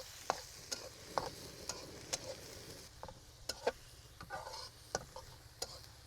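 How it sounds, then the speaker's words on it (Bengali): Shrimp, small fish and onion fry together in a pan, a soft steady sizzle beneath sharp, regular clinks of a spatula tapping and stirring against the metal, close and fairly quiet without talking. "চিংড়ি মাছ, পার্শে মাছ, ভাটা মাছ, ট্যাংরা মাছ আর হচ্ছে তপসী মাছ আর পেঁয়াজ এগুলো সব একসাথে রান্না হবে"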